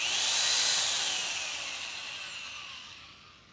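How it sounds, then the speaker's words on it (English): A high-pitched small drill whirs close up as it bores a hole in a shark tooth, its tone slowly falling as the motor winds down and fades. "Next, you want to drill the hole."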